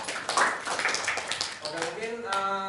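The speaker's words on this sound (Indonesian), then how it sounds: "Kalau udah ada, tepuk tangan dulu buat Mbak Dewi." A classroom group claps during a microteaching lesson: a short burst of dense, scattered clapping that fades as a voice starts speaking.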